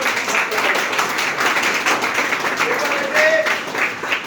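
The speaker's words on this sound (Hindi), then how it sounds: "इसके लिए जोरदार तालियां होनी चाहिए सबके लिए" Sustained applause from a crowd at an outdoor yoga training and awareness event in Prayagraj, a steady wash of clapping that continues throughout at even loudness.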